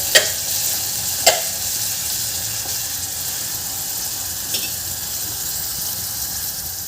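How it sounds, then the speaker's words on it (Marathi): A coarse paste of ginger, garlic and coriander sizzles steadily while being sautéed in a pan for sole bhat, a pigeon pea masala rice, with a few sharp clicks of stirring cutting through the frying hiss. "आलं, लसूण, कोथिंबीर याचं जाडसर भरट टाकायची आहे. आणि हे सुद्धा आपल्याला थोडा वेळ"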